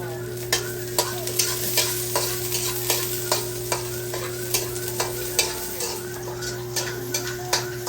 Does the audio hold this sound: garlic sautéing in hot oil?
yes